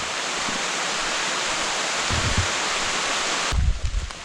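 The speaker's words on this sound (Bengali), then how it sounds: "শুরু হয়েছে বৃষ্টি" Rain falling on a mountain forest trail in Bandarban, a dense, steady wash of close hiss that continues throughout, with a few heavier bumps and rustles toward the end.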